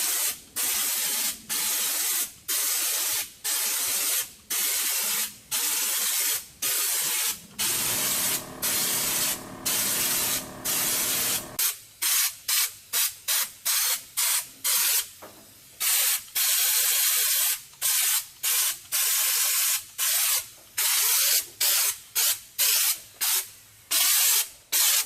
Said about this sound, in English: Put my gloves on and start spraying.